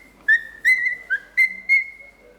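A pet bird whistles a tune, the Columbo TV theme, in five clear sustained whistled notes with short gaps between them, close and alone against a quiet room.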